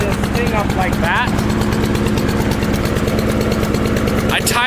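A Honda lawn mower engine idles on auto choke while warming up, a loud, steady, rapid chugging drone that stays even throughout, with faint whirring overtones.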